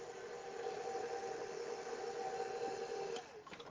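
A stand mixer with a paddle attachment beats lemon olive oil cake batter, giving a steady, even motor whir at moderate level that runs continuously, then drops off abruptly near the end as the machine is switched off.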